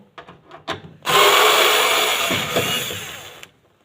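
A power screwdriver backs screws out of the rear of a top-load washing machine, starting with a few light clicks and taps, then a loud, steady close whir for over two seconds before stopping.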